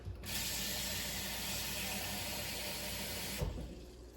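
Tap water runs steadily into a cooking pot being filled to cover ham hocks for green beans and potatoes, a continuous close rushing stream lasting about three seconds before cutting off.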